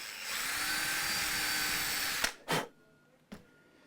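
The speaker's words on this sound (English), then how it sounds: "and then use that as a starter point for drilling." A power drill bores a hole into an Epiphone Les Paul guitar body, a steady whine for about two seconds that stops abruptly, followed by two short bursts of the bit, all up close with no talking.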